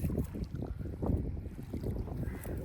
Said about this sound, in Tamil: பார்த்தீங்கன்னா காற்று சரியாக இருக்குது, அதால் இறைஞ்சு கொண்டே இருக்கும்.